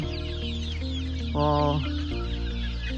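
Country chickens cluck nearby in a steady farmyard chorus, with overlapping short clucks and a brief louder call in the middle, no talking.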